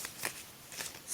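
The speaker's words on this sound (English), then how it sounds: "Tell me I should stop shuffling." Astrology cards shuffled by hand, giving soft, quiet riffling bursts in a few short runs with brief pauses between, close to the microphone and with no talking.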